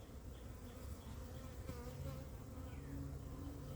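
Continuous buzzing of many honeybees from a newly arrived package, a close, steady drone with no talking.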